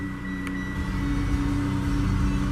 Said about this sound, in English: I'll actually start the car up for just a second